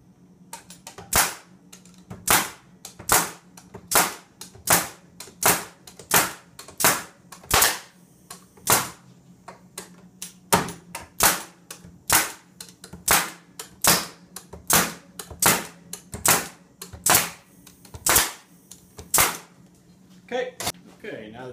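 A pneumatic nail gun fires 1.5-inch nails into wooden Langstroth beehive frames set in a jig. Sharp, loud bangs repeat in a quick, fairly even rhythm, roughly one per second, over a faint compressor hum.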